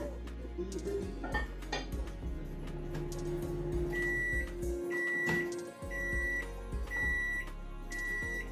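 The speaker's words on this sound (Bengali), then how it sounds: "এগুলিকে 30 সেকেন্ডের জন্য মাইক্রো ওভেনে ঘুরিয়ে নিয়ে দাঁড়ান" A microwave oven hums quietly while heating pancakes, with dish and cutlery clinks and several short electronic beeps toward the end.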